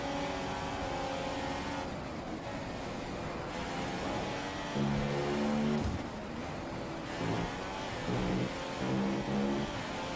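Race cars on track in the video game F1 2015, F3 season, engines droning and rising in repeated revving pulls as the cars accelerate, with a brief spoken line over the engine noise.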